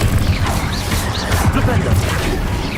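An Incendio fire spell cast in Hogwarts Legacy bursts out as a dense, crackling whoosh of flame with sharp impact hits, sustained and loud for the whole moment amid busy combat noise.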